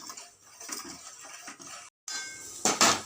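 Grated coconut is roasted in a kadai with a rhythmic scrape and clatter of a spatula against the wok. After a brief silent gap, a louder burst of scraping follows.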